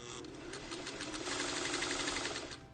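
A sewing machine stitches a quilt block in a fast, even mechanical chatter that runs without a break for a few seconds, close and moderately quiet, with no voice.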